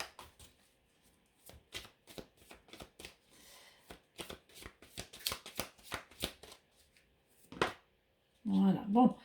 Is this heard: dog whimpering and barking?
no